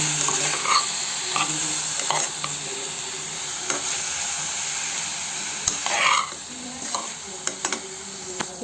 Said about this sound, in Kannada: ಇದನ್ನು ಚೆನ್ನಾಗಿ ಮಿಕ್ಸ್ ಮಾಡ್ಕೊತೀನಿ ಈರುಳ್ಳಿ ಜೊತೆ